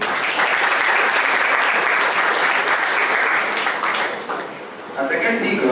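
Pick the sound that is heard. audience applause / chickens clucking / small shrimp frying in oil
audience applause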